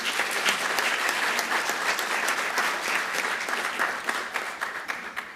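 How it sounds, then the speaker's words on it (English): A conference audience at an Africa engineering week event breaks into sustained, even clapping, many hands patting densely and loudly throughout without a break. "A round of applause, please."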